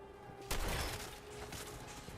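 A single loud gunshot in Fallout 4 cracks out near the start, with a booming decay that trails off over a rumbling game background.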